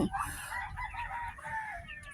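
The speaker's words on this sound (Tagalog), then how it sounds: "Tingnan mo, bagong panganak naman mga manok." Chickens clucking and crowing up close on a provincial farm among newly hatched birds and small ducks, with a busy overlapping chorus of short calls.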